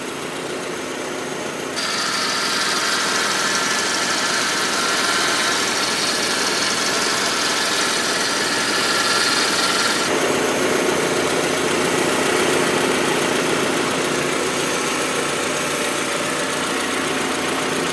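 A Honda Civic Aerodeck with a D15 engine idles steadily close by after an alternator replacement, its hum joined by a faint whine from the power steering pump and a slight rattle from loose heat shields, the tone shifting slightly partway through.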